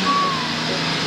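A lorry's reversing alarm beeps loudly with a steady tone over a rumbling truck engine, in a short burst with no speech.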